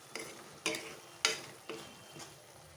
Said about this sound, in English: Stir this very well. And let this cook a bit.